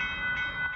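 A northbound Union Pacific mixed freight train passing a road crossing in Austin, Texas gives a steady, loud rumble with a sustained tonal drone throughout, heard close and without speech.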